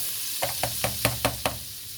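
Onions sautéing in melting butter in a pan for shepherd's pie, a steady low sizzle punctuated by six evenly spaced knocks of a utensil against the pan.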